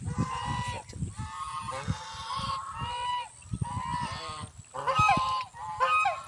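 Several domestic geese honk loudly and repeatedly nearby, their harsh calls overlapping in bursts with brief pauses between.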